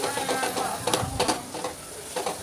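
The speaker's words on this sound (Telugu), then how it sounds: "వెల్లుల్లి కారాన్ని వేసుకొని ఒక రెండు నిమిషాల పాటు ఇలా బాగా కలుపుకుంటూ వేయించుకోవాలి" Garlic chili powder fries and is stirred in a pan, giving a steady soft sizzle with scraping stir strokes throughout, close and moderately loud.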